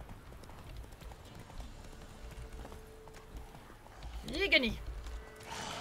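Horse hooves clip-clopping in The Witcher III, a steady patter running under ongoing talk, with a brief whinny-like burst near the end.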